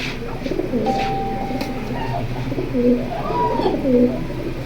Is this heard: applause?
no